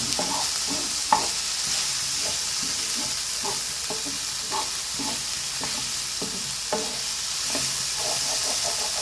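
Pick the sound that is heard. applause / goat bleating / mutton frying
mutton frying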